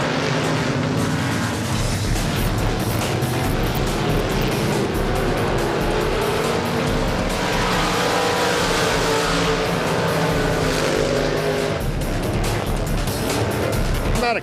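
Limited modified race cars roar around the oval at Golden Triangle Raceway Park during a Friday night race, their engines a loud, continuous, close-up drone that swells and fades slightly as the pack runs.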